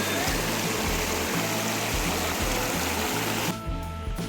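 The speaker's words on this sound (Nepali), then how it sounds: "मजा छ यो खोला चाहिँ दामी छ दामी।" A small mountain stream in a forest flows with a constant close babbling rush, underlaid by a faint low pulsing hum, and quietens slightly near the end.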